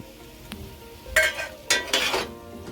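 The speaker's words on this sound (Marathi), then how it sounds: "हलक्याच्या हाताने त्यांना परतून घ्यायचे." A spoon stirs paneer into cooked fenugreek and spinach in a pan, giving a few distinct scraping and clinking strokes over a soft background sizzle, close and moderately loud.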